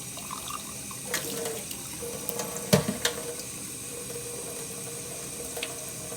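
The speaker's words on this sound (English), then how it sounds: "Rinse off the jar." A glass jar is rinsed under a running kitchen tap, with a constant close splash of water and a few light clinks and knocks of the jar against the sink.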